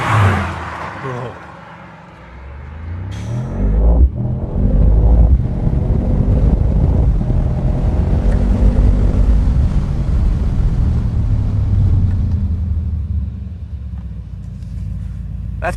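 A roofless Mythos sports car accelerates and cruises with a deep, steady engine rumble and constant wind buffeting across the open cabin, loud and close for over ten seconds.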